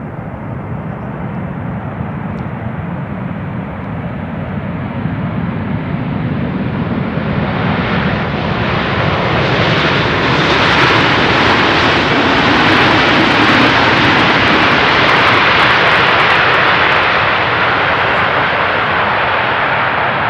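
A jet airliner lands on runway 18R at Amsterdam Schiphol, its engine roar loud and steady throughout and swelling toward the middle as it passes close, with only light reverse thrust and no talking.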